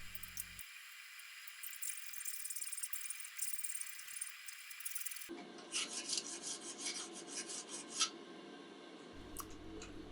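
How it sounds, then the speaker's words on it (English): A half-round file dressing the metal of a blacksmith post vise spring, rasping in repeated quiet strokes that continue through the whole stretch, with no voices. "Here I'm just using a half round file to dress the transitions between the spring and"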